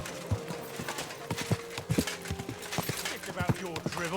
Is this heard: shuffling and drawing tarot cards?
no